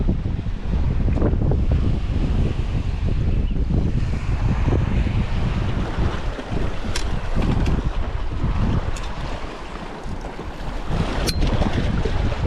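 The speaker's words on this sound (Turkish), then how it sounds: "Esinti var." Steady outdoor breeze buffeting the microphone for the whole stretch, a continuous rough rumble with gusty swells and a brief lull near the end, alone without speech.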